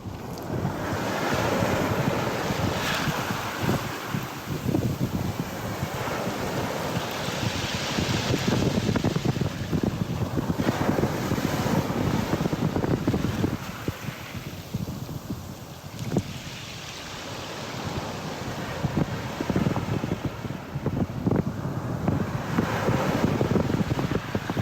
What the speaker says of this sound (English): I'm sitting by the sea now, so this is what it sounds like